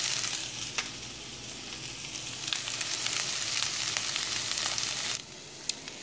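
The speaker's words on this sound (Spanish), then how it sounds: "Y la vamos a revolver muy bien para que se integre la cebolla y el aceite." Shredded carnitas meat stirred together with onion and oil in a hot pan, giving a dense, continuous sizzle with occasional scraping strokes; the frying quiets abruptly near the end.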